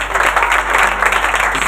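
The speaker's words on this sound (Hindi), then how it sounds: "जोरदार तालियां बुजुर्ग मूसा के हाथों के लिए।" Audience applause fills a church during a sermon, a dense burst of many hands clapping loudly and steadily, close and unbroken.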